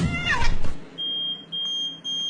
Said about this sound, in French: Voici une vidéo de chat en attendant.